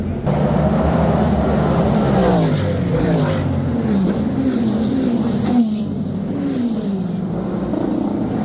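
Race car engines roar steadily around the track at the 2024 Long Beach Grand Prix, heard near turn 8, pitch rising and falling as cars accelerate and sweep past, loud and continuous with no talking.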